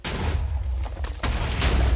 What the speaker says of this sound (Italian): Cosa sono queste esplosioni, scusate?